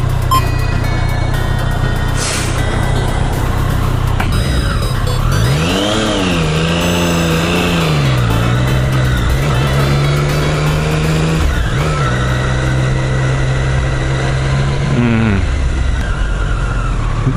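A Triumph Street Triple S motorcycle engine during a road-mode test ride, revving up and down repeatedly with rising and falling pitch sweeps over steady wind and road roar, loud and close throughout.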